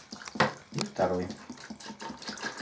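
Water is poured into containers holding Siberian and Korean cedar seeds, producing uneven splashes and sloshing close by, with someone talking over it.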